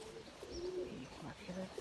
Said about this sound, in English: And there are all the birdies.